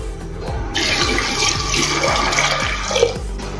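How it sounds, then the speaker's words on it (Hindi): Water poured in a strong, steady gush into a pressure cooker holding peeled, chopped potatoes, loud and close, running continuously with a rushing, splashy texture and no talk. "अभी इसमें हम पानी डालेंगे।"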